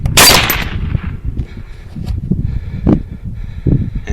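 A single loud, sharp rifle shot rings out outdoors during a hog hunt, followed by quiet rustling and soft thumps in the brush.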